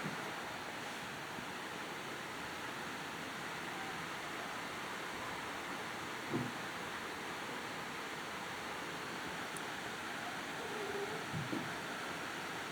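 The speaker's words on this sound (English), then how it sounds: "Sounds like water." Steady water flowing outdoors at night, a continuous wash of noise that sounds fairly distant and faint, with insects and an occasional small knock over the top.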